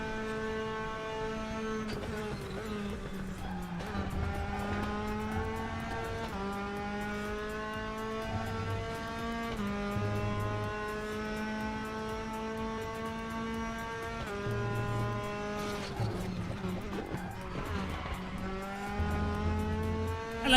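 A race car in the RaceRoom video game running a smooth lap, its engine droning steadily with rising and falling pitch through gear changes, loud and continuous with no talk.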